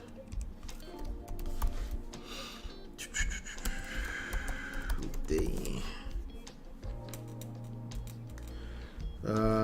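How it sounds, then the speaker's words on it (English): Someone types on a computer keyboard, the light clicks running fairly quietly beneath a voice and background noise. "Let me type Mohbad."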